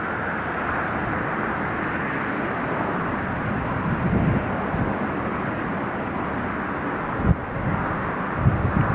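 An Italian Air Force C-27J turboprop landing at Newcastle International Airport, a steady distant engine drone mixed with wind noise across the whole stretch, with a couple of brief bumps near the end and no talk.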